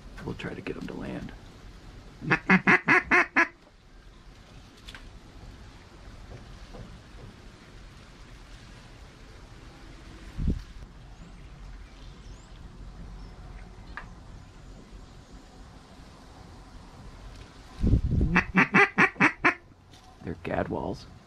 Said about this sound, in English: Gadwalls.